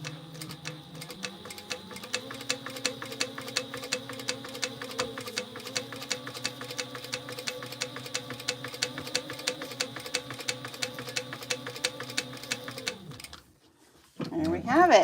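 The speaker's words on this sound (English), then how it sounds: "I'm going to stay stitch the" A sewing machine stay stitching along the top of a crossbody bag, running in a fast, steady, close needle rhythm for about thirteen seconds before stopping abruptly, followed by a brief rustle.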